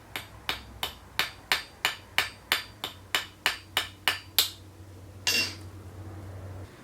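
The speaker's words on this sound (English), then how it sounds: "Alright, so now I'm going to rivet these in." Hammer striking rivets on a small handmade crab lock: about a dozen sharp, evenly spaced metallic blows up close, followed by a brief scraping clink, with no talking.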